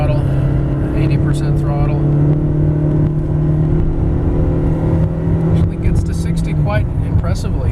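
A 2009 Ford Escape Hybrid FWD SUV accelerates at high throttle, giving a loud, steady engine drone that holds and climbs slightly for several seconds, with a brief voice near the end.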